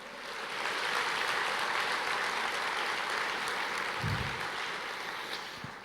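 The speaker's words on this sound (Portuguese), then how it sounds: "Você pode aplaudir o Senhor" A church congregation applauds steadily, a broad wash of many hands clapping for several seconds at moderate level, with a low thump partway through.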